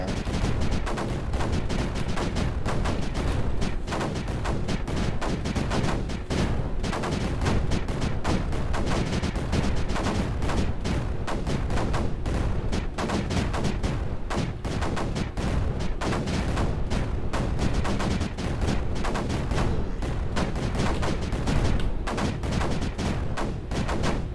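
Relentless booming gunfire and heavy cannon blasts crackle densely, like a large battle raging continuously at moderate volume, in the video game Space Crew.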